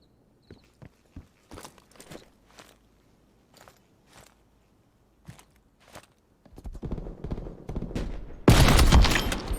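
Sparse sharp gunshots and thuds in Call of Duty Cold War, then a dense burst of rapid gunfire and a loud headshot impact near the end, without speech.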